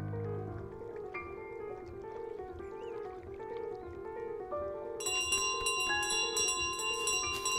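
A bell in Untitled Goose Game rings through steady game music, with soft tones early and then a rapid burst of bright, repeated dings in the final few seconds.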